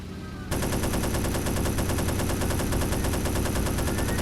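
Sustained automatic gunfire in the video game Hidden & Dangerous 2 bursts in after a brief quiet start and rattles on loud and rapid without pause.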